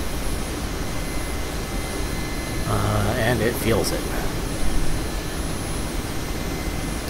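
A big helicopter in the DCS World flight sim, its engine and rotor making a steady, loud broadband roar throughout, with someone talking over it.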